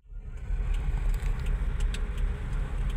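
A car driving along during a driving lesson gives a steady, close low rumble of engine and road noise that runs unbroken throughout, with faint light jingling on top and no talking.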